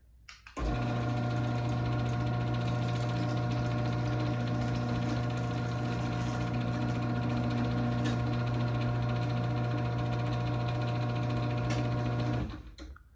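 Chamberlain C410 garage door opener running as the door travels down, a steady close motor hum with a strong low tone lasting about twelve seconds, starting and stopping cleanly, no talking.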